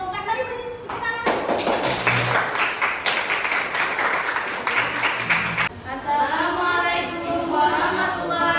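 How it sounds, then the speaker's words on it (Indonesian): A classroom gives a burst of applause as student group 4 steps up to present, with dense clapping lasting about four seconds amid voices, followed by someone speaking. "Mari beri tepuk tangan"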